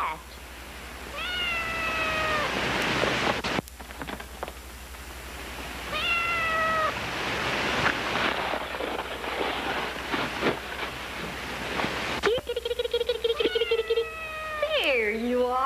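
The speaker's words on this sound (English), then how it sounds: "What's that? A cat." A cat meows in a colorized sitcom scene, several drawn-out, wavering cries repeated at intervals, loud and close over background noise and rumble.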